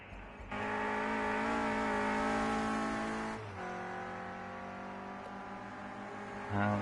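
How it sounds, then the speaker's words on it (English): Renault Clio Cup race car at Snetterton during qualifying, its engine holding a loud steady high-revving drone, dropping pitch briefly at a gear change, then climbing again, with no one speaking over it. "He's pushing that little Clio Cup car as hard as he can."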